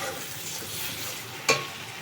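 A soft, steady sizzle of spice paste frying in oil for a Bengali pabda fish curry, heard alone and fairly quiet, with a single sharp clink of a utensil near the end.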